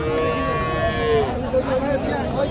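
Bull calves mooing at a busy livestock market in Kaharol, several rising and falling calls heard over a steady murmur of crowd chatter and voices.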